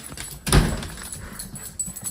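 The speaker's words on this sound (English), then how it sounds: "Crazy dog." An excited dog greets someone arriving home, with a burst of scuffling, thumping and whimpering noise near the start, then softer movement and faint rustling continuing after.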